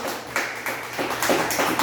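A church congregation claps hands together in worship as an offering to God, a dense, steady patter of many palms that swells slightly louder toward the end, with no talking over it.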